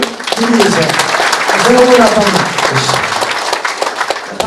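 An audience applauds at an Ethiopian tribute event, steady clapping running throughout while someone speaks over it.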